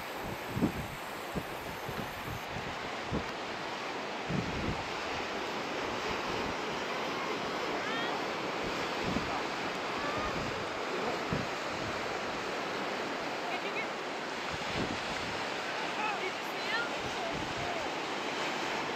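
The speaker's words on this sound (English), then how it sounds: "The waves out there, watch the waves." Ocean waves break and wash ashore in a steady far-off surf roar, punctuated by soft thumps, with faint people nearby.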